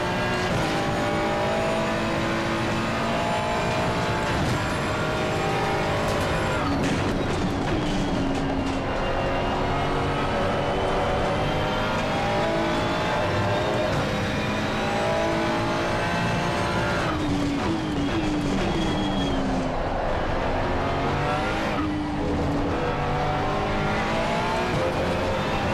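Race cars roar around the Silverstone circuit in a racing video game, one engine screaming steadily close by as it shifts and revs through gears, with other cars passing, loud and continuous throughout.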